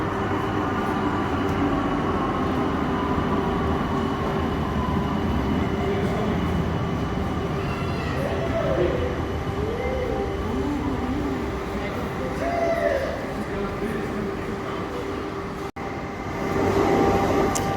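The Cairngorm funicular mountain railway train in Scotland rumbles steadily along its track with a constant mechanical drone, and voices talk faintly over the running noise.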